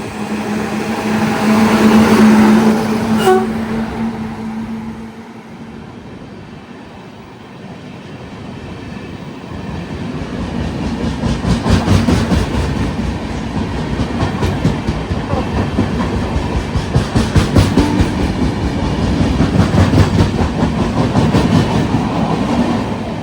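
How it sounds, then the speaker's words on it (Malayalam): The Jamnagar–Tirunelveli Express approaches along the line, a distant rumble and brief horn giving way to loud, rhythmic clickety-clack of wheels on rail joints as the coaches roll past close by. "അങ്ങ് ദൂരെ നമ്മുടെ ജാംനഗർ തിരുനെൽവേലി എക്സ്പ്രസ് കയറി വരുന്നുണ്ട്."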